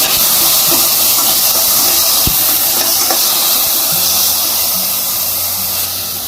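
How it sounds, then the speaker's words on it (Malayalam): Chopped pineapple fries in ghee for rava kesari, a loud, dense hiss of steady sizzling close by with a few faint spoon taps. "ഇതേ നെയ്യിൽ തന്നെ നമ്മൾ ചോപ്പ് ചെയ്ത് വെച്ചേക്കുന്ന പൈനാപ്പിൾ നമുക്ക് ഇതിലേക്ക് ആഡ് ചെയ്ത് കൊടുക്കാം"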